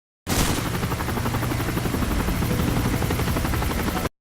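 A steady, loud rotor thrum with a dense rattling chop fills the whole stretch, like a helicopter hovering close overhead, unbroken from start to finish, in the video game Call of Duty: Modern Warfare 3.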